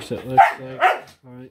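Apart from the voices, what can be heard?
dog barking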